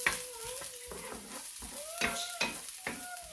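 Chopped onion sautéing in hot oil in a pan, cooked ahead of the garlic for a tomato and mussel pasta sauce: a steady close sizzle broken by several sharp scrapes and clacks of a utensil stirring against the pan.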